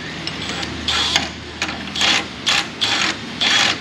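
A ratchet clicks in short bursts of rapid pawl ticks while a torsion bar bolt is retightened under a 2000 Nissan Frontier 4x4, about seven bursts with short pauses between them, close and fairly loud.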